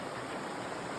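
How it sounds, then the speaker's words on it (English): River water flows beside a trail camp in the Appalachian woods with a steady, close, broadband rushing wash, brief and without any talking. "So we're sitting by this river."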